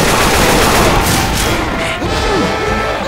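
Video game gunfire crackles in rapid bursts, loud and close, mixed with thumps and crashes, while voices talk over the action.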